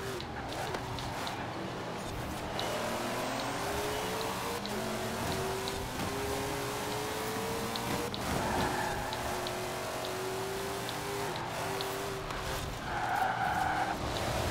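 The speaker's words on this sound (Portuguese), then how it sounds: "Mano, esse carro é excelente de drift." Extended drifting by a Ford GT40 in the Forza Horizon 4 racing game: engine note sweeping up and down while tires screech in repeated long slides, fairly steady in loudness.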